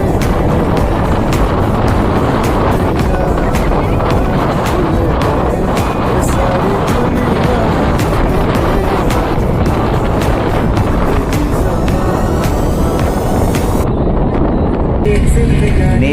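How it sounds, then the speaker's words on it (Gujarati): Strong, cold wind buffets the microphone on a seashore, a loud, continuous roar with gusty rumble throughout and no pause. "દરિયા કિનારે જોરદાર ખૂબ જ ઠંડો ઠંડો પવન વહી રહ્યો છે."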